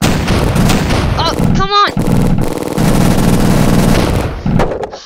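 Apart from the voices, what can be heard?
tank cannon fire in the Awesome Tanks 2 video game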